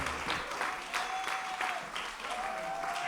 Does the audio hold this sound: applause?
yes